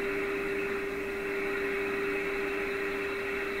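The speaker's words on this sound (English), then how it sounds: "I can make the hiss include more high frequencies here." Steady, broadband static hisses continuously from a Silvertone 7054 radio receiver during IF alignment, with a faint constant hum underneath, unchanging throughout.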